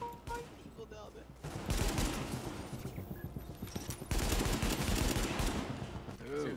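Continuous turret gunfire in a video game battle, a loud dense fusillade of rapid shots that swells midway and keeps hammering, with a voice briefly audible beneath the barrage.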